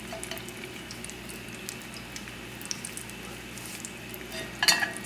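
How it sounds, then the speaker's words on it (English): Spicy fish bites frying in hot oil in a small pot, a soft continuous sizzle and bubbling at a low level, with a few faint clinks and a brief sharper crackle near the end. "Now it's frying the way it should."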